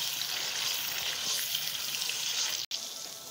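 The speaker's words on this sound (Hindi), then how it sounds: "अब इसमें हम प्याज शामिल कर रहे हैं। प्याज को हम आयल में भूनेंगे कि ताकि थोड़ा हल्का लाइट ब्राउन हो जाए।" Onions fry in hot oil for a white shahi murgh masala, producing a steady, even hiss throughout that is broken by a brief silent dropout near the end.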